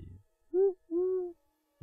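A person imitates an owl with two drawn-out, tonal hoots, the second longer than the first, in a quiet setting during a tabletop role-playing game session, with brief voice sounds at the start and end.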